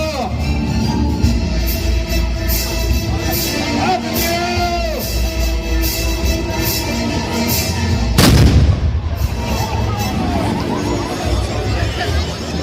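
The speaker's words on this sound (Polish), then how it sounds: "Królewska artyleria rozpoczyna ostrzał z broni palnej. Atak z armat na mury! Ognia!" Cannon fire booms out during a reenactment of the 1466 Siege of Chojnice, a single loud blast rolling away after a stretch of crowd murmur and an announcer's voice.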